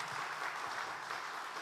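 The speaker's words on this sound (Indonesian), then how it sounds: "Beri tepuk tangan dulu untuk Tuhan kita." A church congregation at a Sunday worship service claps together in a continuous, fairly faint wash of applause that fills the brief moment.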